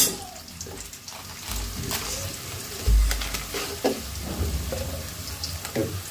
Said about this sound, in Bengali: দারচিনি, তেজপাতা মশলা এগুলো দিয়ে দিলাম। একটু লাড়া দিয়ে দিই আমরা।